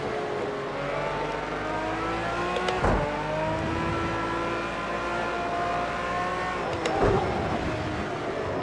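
An Aston Martin Vantage GT3 races in Project Cars 2, its engine holding a steady, close roar with gear shifts and two sharp downshift pops, no talking.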